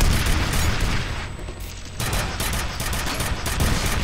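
Dense, loud gunfire and a heavy grenade blast fill a firefight in the shooter game F.E.A.R., forming a steady wall of booming shots with a brief lull partway through.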